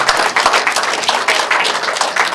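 An audience at a lecture on healthy ageing and centenarians applauds the professor with brisk, dense clapping that stays loud and steady for a couple of seconds.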